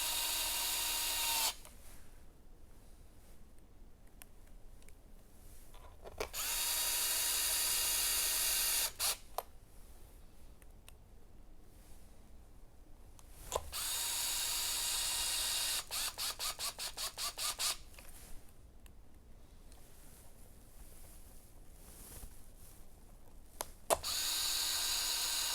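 Driving screws with a 2.5mm hex driver bit while reassembling an X-Maxx RC truck after a motor swap: several loud, steady whirring bursts of a few seconds each, separated by quieter gaps, with no talking.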